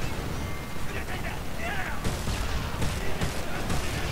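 Gunfire in the Homefront video game campaign, a dense stretch of shots and bursts with sharp repeated cracks over constant battle noise, fairly loud, with a voice talking in places.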